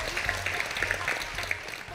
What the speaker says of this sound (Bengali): কিন্তু কাজেই প্রান্তির জন্য বিশেষ একটা করতালি হবে।